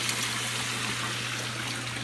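Water driven by a pump flows steadily into an IBC aquaponics fish tank, a constant close trickling rush with a low, even hum beneath it.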